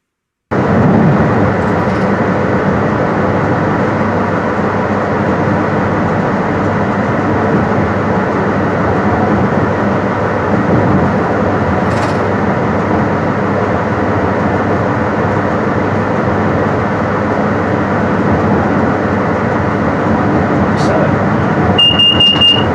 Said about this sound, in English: there is no issue with the HST travelling at this slow speed